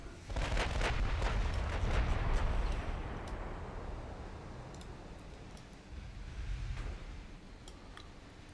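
Warship guns firing in the naval game Rule the Waves, a loose cluster of rumbling booms early on, then quieter scattered reports over a low steady background.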